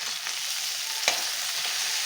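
Okra fries in a pan with turmeric and chili powder, giving a constant, even hiss of hot oil and one brief knock of a utensil midway, with no one talking.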